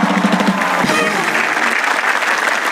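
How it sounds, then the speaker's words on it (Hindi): Studio audience on a comedy talk show applauds for the actress Rekha, a loud, full burst of clapping that holds steady for the whole moment. "जोरदार तालियां रेखा जी के लिए"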